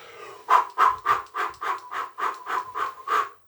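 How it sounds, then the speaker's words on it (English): A person exercising puffs air out in a steady run of about ten sharp, evenly spaced exhales, close and loud, with no talk between them. "As you're breathing out, I want you to puff the air."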